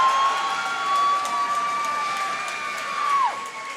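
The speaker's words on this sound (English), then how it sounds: "A lot of cheering again, mostly for court 2 here." Crowd at a Canadian national dodgeball quarter-final cheering steadily in an indoor hall, a loud sustained roar with whistle-like tones and a swell near the end.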